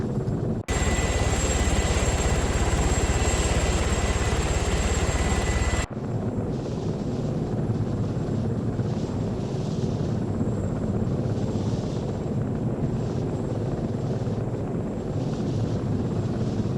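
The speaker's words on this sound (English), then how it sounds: "Letting you know you got friendly helicopters coming" Apache helicopters approach in the video game Arma 3, a steady loud roar of rotors and engines filling the whole stretch, with a sharp cut after the first few seconds into a continuing throbbing drone, and no talk.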